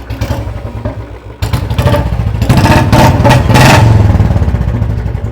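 A Bullet motorcycle engine thumps at idle and then revs up harder, a loud, close, steady mechanical throb that grows fuller and rougher as the throttle opens, with no talking.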